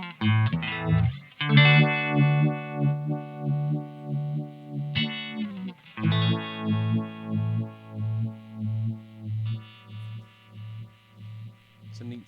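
Electric guitar chords run through a VFE Junior phaser pedal with the depth maxed, giving a loud, sustained, strongly pulsing sweep that throbs in a steady rhythm across several held chords.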